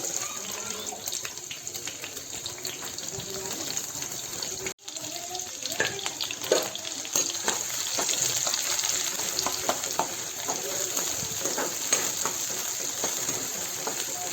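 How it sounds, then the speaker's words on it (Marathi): Onions fry in a pan for misal pav, a continuous close sizzle with occasional stirring clatter over a steady background hum, no talking. "कांदा चांगला परतून घेऊ"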